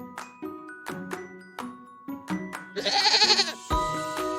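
A goat bleats loudly and close, a long wavering cry near the end of the clip, after a soft series of light tinkling tones.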